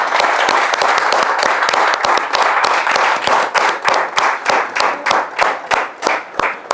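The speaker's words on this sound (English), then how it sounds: "let's begin as I always do with a big round of applause for all the audience" An audience at a leadership gathering gives a loud, sustained round of applause, dense clapping close by that thins into slower, more distinct rhythmic claps toward the end, with no speech over it.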